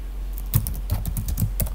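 Rapid, close keystrokes on a computer keyboard in a Linux shell session, a quick irregular burst of distinct clicks with no talking.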